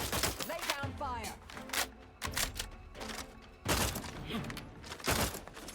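Rapid bursts of gunfire from a weapon in the video game The Outer Worlds 2, coming in several loud volleys mixed with metallic clatter and in-game voice chatter.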